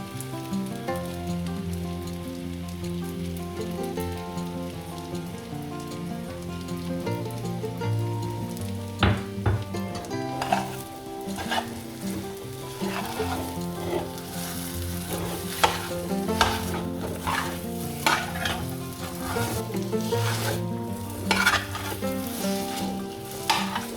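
Thirty-two spices fry in hot oil for sticky rice pudding, giving a steady, close sizzle with occasional pops and stirring scrapes throughout, and no talking.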